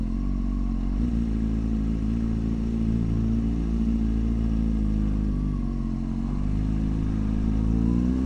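A motorcycle on freshly fitted new tires rides at a steady pace, its engine droning loudly and evenly up close with a small bump near the start, and no voices.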